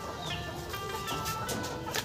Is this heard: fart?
no